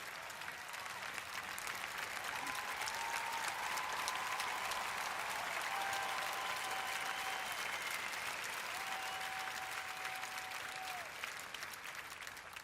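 An arena crowd at the Invictus Games Orlando opening ceremony applauds and cheers, a sustained wash of distant clapping with a few whistles rising above it, steady and fairly faint throughout.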